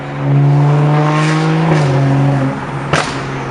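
A BMW M235i engine, just fixed of a misfire under boost, revs loudly and close by in one steady pull that rises and then eases off, with a sharp snap near the end.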